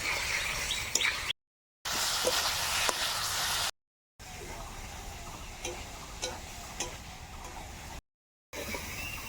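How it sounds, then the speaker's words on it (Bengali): Potatoes and spices stir-fried together in a pan for a Bengali green bean, potato and katla fish curry, giving a steady soft sizzle broken by faint ticks and scrapes, with the sound cut out in a few short gaps. "আলু আর মশলা একসঙ্গে আবারও কিছুক্ষণ কষিয়ে নেব।"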